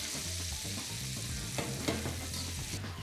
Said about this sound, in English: We add the potatoes to the sauce.